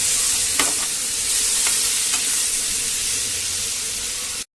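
Chili powder, chicken masala powder, turmeric and salt sizzling and being stirred in a hot pan, a steady loud frying hiss with a few scraping strokes, close up, then cut off abruptly.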